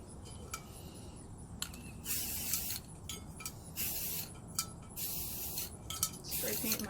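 A spray paint can hisses white paint onto a glue-stick glitter tumbler in bursts of several seconds, with brief pauses and clicks between sprays, close and fairly loud.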